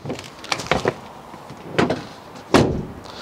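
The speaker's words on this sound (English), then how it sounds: "I love the way that sounds well. Great sounding doors." Doors on a 2018 Ford Transit Custom RSV Sport van close: several clunks and latch clicks, then two loud, solid slams with a short ring-out, close by and with no talking.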